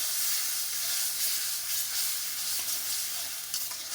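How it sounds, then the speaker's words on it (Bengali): A ground paste of tomato, green chilli, cashew, ginger and bay leaf fries in hot oil with a steady, dense sizzle and hiss that holds close and loud throughout, with faint stirring beneath. "তেলের উপরে টমেটোটা দিয়ে দিলাম আর এই যে বেটে রেখেছিলাম কাঁচা লঙ্কা, টমেটো, কাজু বাদাম, আদা আর একটু তেজপাতা, মশলাটা একটু কষাতে থাকবো"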